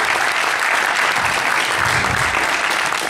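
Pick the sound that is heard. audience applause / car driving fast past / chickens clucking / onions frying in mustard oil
audience applause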